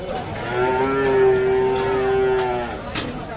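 A young Sahiwal calf, about three to four months old, lets out a single drawn-out moo, close and clear, rising and then fading over a couple of seconds against faint background noise at a cattle market.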